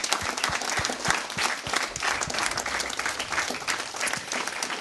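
A TV studio audience applauds steadily after a blind test game, dense clapping filling the whole stretch at an even, fairly loud level.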